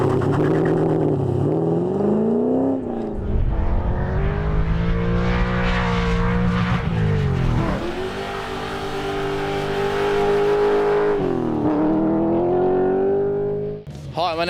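A Holden Commodore with a naturally aspirated LS V8, six-speed manual, big brakes and street tyres revs hard at an airstrip drag event, loud and near, the pitch climbing, dipping between gear changes, then climbing again before cutting off.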